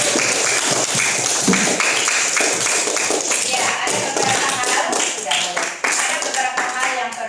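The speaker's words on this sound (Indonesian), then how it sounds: "mari kita beri apresiasi dengan tepuk tangan yang lebih keras" A classroom of students claps hands in loud, dense applause lasting several seconds, with a few brief spoken words over it.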